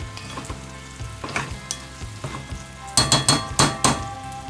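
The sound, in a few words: garlic frying while stirred with a spoon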